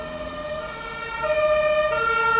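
A fire truck siren holds long, steady tones, growing slightly louder as it approaches, with faint road rumble underneath.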